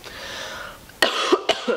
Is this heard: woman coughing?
yes